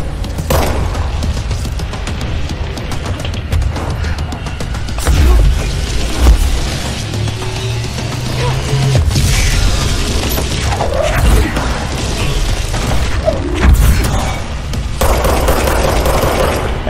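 Enemy gunfire and heavy impacts in the video game Control, bursts of shots and booming crashes over a constant loud background of game noise and machinery.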